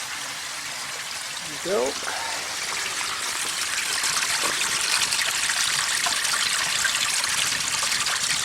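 Water rushes steadily out of the black waste tank of a Keystone Cougar 276RLS RV through a newly replaced valve, a continuous close trickling flow building after a short voice speaks.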